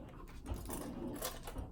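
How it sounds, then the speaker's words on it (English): A washing machine runs in the background of a home, giving a continuous mechanical whirring and rumbling with small irregular knocks and no talk. "if y'all hear noise, it's my washing machine"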